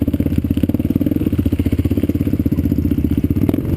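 Close, loud motorcycle engine on a wet off-road trail ride behind an all-black KTM, with a fast, even thumping pulse that holds steady throughout and a faint clatter on top.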